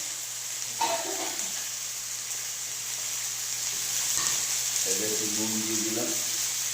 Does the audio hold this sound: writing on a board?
no